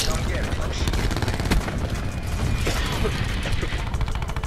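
Gunfire in a video game firefight, dense rapid bursts of shots layered over continuous loud game noise, with a voice talking under it.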